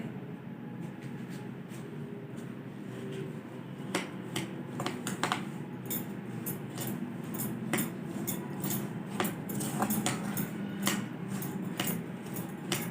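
Spoon mixing semolina pakora batter with maida, salt and garam masala in a bowl, giving a run of close, sharp clinks and taps against the bowl, growing busier and denser toward the end.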